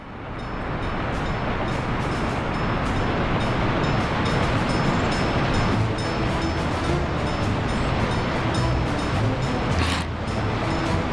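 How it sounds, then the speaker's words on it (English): A train with rattling wagons rolls loudly through a Soviet-era city in the Workers & Resources: Soviet Republic video game, a steady heavy rumble with rhythmic clanks and clatter that swells and holds, no voices. "Very damn loud, this train,"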